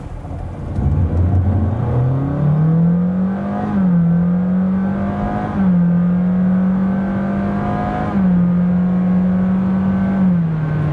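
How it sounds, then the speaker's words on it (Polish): A Honda Jazz Crosstar Hybrid 1.5 accelerates at full throttle from 0 to 100 km/h, its engine droning up in pitch and then holding a steady whine through gear-like steps, close and loud with no talk. "Pod kątem dynamiki samochód tak przyspiesza z gazem w podłodze od 0 do setki."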